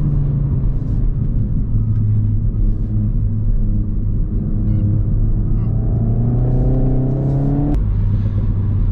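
A car accelerates through the gears on a tight curve, its engine droning and rising in pitch before a sudden shift and a braking drop; someone talks over the steady, loud engine noise.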